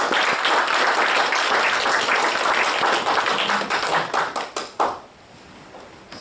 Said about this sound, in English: please, a round of applause for tonight's speaker